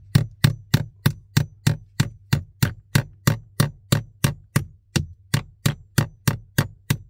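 Steady hammer blows on wood in a crawl space during a farm well pump installation, about twenty sharp strikes at an even, brisk rhythm, close and loud with no talk.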